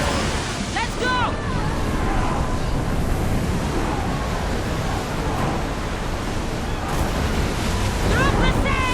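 Wind and breaking waves while sailing a ship at sea in Assassin's Creed Odyssey, a loud, continuous rushing roar of surf and gusts, with shouted voices heard briefly over it.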